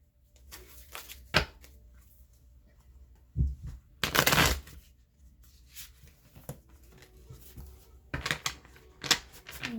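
Light Seers Tarot cards are shuffled close by in quiet surroundings, giving soft irregular riffles, taps and flutters with a few louder bursts of card slaps scattered through.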